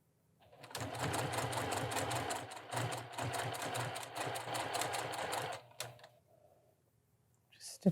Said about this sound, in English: Stitching right along the edge of the binding.